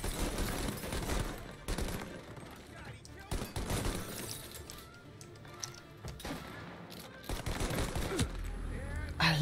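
Sharp bursts of gunfire in the video game Mafia: Definitive Edition crack out several times, loud and abrupt, separated by short quieter gaps with background game noise.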